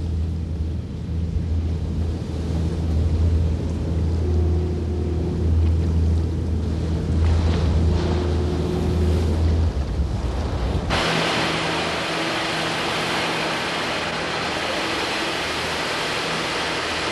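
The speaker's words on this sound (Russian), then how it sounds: "Пользуясь затишьем, люди испытывают новую ходовую часть «Калипсо»." Research ship Calypso underway at sea after new propulsion gear was fitted: a low engine drone with wind and water rush, then a sudden shift to louder broadband spray and wave noise partway through.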